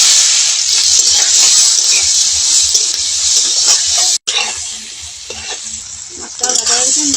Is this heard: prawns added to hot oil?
yes